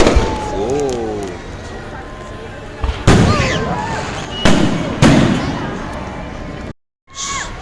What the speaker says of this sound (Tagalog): So many people watching the fireworks here.